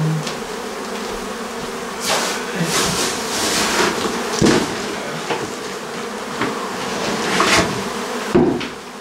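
Dense bee swarm from a big feral hive being removed from a townhouse wall cavity. A close, continuous buzzing drone rises and falls, with scattered knocks and taps mixed in and no talk.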